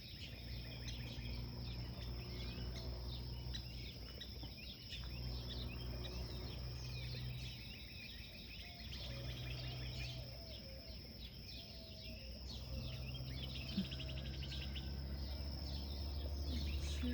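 Birds chirp and call throughout a quiet Texas morning around sunrise, with insect-like trilling and a steady low hum beneath, many small calls overlapping at moderate distance.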